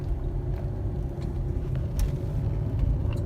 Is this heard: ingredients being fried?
no